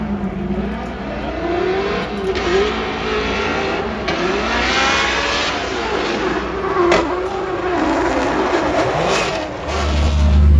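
A Formula Drift car's engine on a practice lap, sputtering, makes a loud, continuous roar that wavers in pitch as the throttle changes, with a brief surge near the end.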